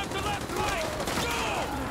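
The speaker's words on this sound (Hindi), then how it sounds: "चारों तरफ से फायरिंग चल रही है यहाँ पर" Dense gunfire fills a firefight around the White House in Call of Duty: Modern Warfare 2 Remastered, a continuous loud wash of shots with no clean gaps, under a voice talking over the game.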